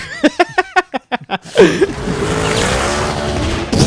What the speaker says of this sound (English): He just did a wheelie with his fucking car.